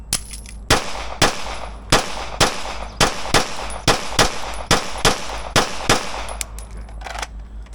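Staccato P pistol fired at 25 yards, a dozen sharp close gunshots in quick pairs and single shots with brief ringing tails, no talking.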